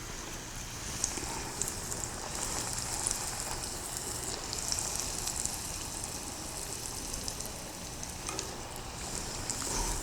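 Food coated in glutinous rice flour fries in hot oil during a cooking class, giving a steady, dense sizzle with scattered crackles and pops that goes on without a break.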